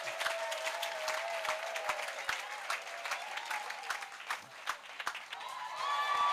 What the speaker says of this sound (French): Acclamation. Let's clap.